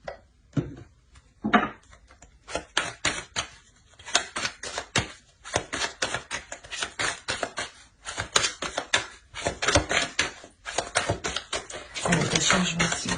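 Tarot cards shuffled and drawn, a close, steady patter of crisp card slaps and riffles that builds into a denser shuffle near the end, with no voices.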